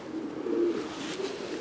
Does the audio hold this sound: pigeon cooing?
yes